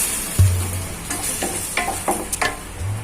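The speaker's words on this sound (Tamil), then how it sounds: "கொஞ்சம் தக்காளிக்கு பச்சை வாசனை போகணும், அது வரைக்கும் நம்ம நல்லா வதக்கிட்டே இருக்கலாம்." Tomatoes and onion paste sautéing for an egg curry, a steady close sizzle in the pan broken by several scraping stirs of a spatula, with no voices.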